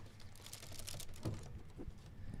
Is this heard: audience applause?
no